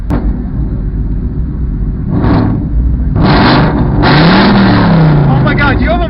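Cars at a street meet roar and rev hard close by, the engine pitch sweeping up and down with a few sharp, loud bursts, while people talk over the din.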